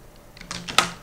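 A few quick key clicks on a computer keyboard, tapped in a short cluster of close, fairly soft strokes with one sharper hit near the end, with no voices.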